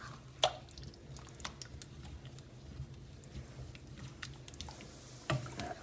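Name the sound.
stirring sweet potato and chickpea curry in a pot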